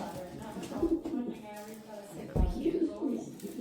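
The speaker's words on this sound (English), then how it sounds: "Top pigeons." Racing pigeons of a Van Oz bloodline in a loft give soft, throaty cooing in two short bursts with a pause between, close by, while people talk nearby.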